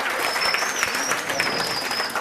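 Audience at a televised quiz competition breaking into applause, a steady wash of clapping with a faint crowd murmur underneath, fairly close and even throughout.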